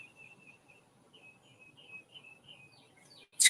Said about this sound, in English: You listen to these birds